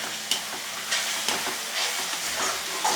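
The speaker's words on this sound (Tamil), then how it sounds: "இதையும் நம்ம ஆட் பண்ணிடலாம். எண்ணெயில் சேர்த்துட்டு நல்லா நம்ம வதக்கி வச்சுக்கலாம்." Country tomatoes sautéing in hot oil for a Kadaknath chicken gravy: a continuous close sizzle and hiss with intermittent stirring scrapes, and no voices.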